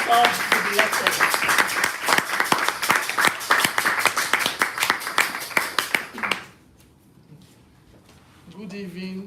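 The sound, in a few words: applause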